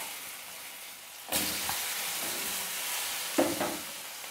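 Potatoes tipped into hot oil already seasoned with cumin seeds and bay leaf, for an egg curry: a quiet pan suddenly bursts into loud sizzling, which stays steady, with a stirring clatter and a fresh flare near the end.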